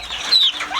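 A feather-footed heritage-breed chicken gives a short, close cluck with a squawky rising note, brief and fairly loud against quiet farmyard surroundings.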